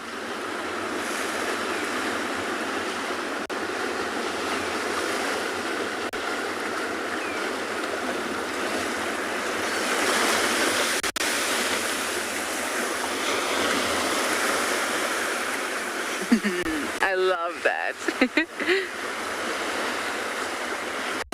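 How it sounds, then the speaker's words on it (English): Ocean waves roll and break steadily on a shore, a loud continuous wash of surf with a bigger swell swelling around the middle, and a brief spoken remark near the end. "I could sit and watch waves and listen to them for hours."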